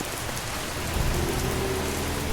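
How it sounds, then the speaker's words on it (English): Rain falling in the video game Schedule 1, a steady wash of dense hiss with a low rumble swelling midway, heard alone without talk. "I got you standing in the rain"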